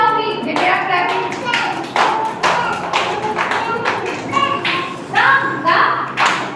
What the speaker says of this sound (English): They are clapping.